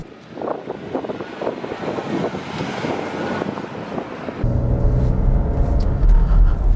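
A car with a 2.5-litre V6 engine pulls away and drives off, starting with a low, windy rumble that grows into a louder, steady engine drone heard from inside, with no one speaking.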